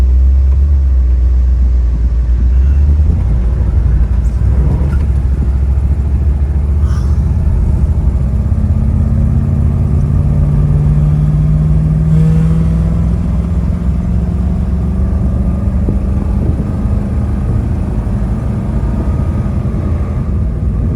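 A 1959 Ford Galaxie 500 retractable hardtop with a 352 V8 and automatic transmission idles steadily, a loud, close, smooth low rumble that holds even throughout with no revving.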